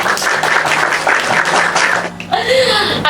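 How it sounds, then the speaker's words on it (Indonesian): Applause from a group of friends in a podcast studio, brisk close clapping for about two seconds, then a short gap and a voice speaking over light background noise. "Boleh sekali lagi teman-teman tepuk tangannya"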